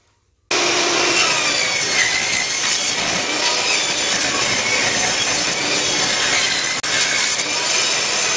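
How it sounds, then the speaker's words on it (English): A table saw rips old, brittle barnwood into strips, a loud, steady, close whine and rasp of the blade through the wood that starts abruptly and holds for several seconds with one brief dip. "I'm gonna cut this into strips and I'm gonna show you how to do that on the table saw"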